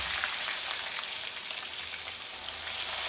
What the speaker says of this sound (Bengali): গোটা গরম মশলা দেওয়ার পর পেঁয়াজ কুচিটা দিই।